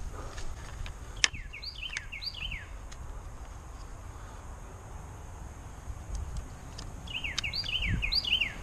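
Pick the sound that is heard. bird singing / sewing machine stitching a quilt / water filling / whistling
bird singing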